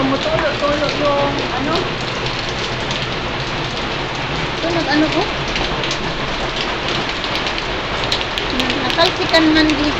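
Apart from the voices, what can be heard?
heavy rain falling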